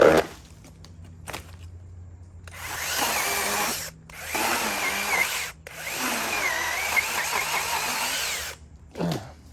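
An Inokrat mini chainsaw cuts into a huge traveling palm in three long, loud, buzzing runs separated by short pauses, its motor pitch wavering as the chain bites into the fibrous trunk.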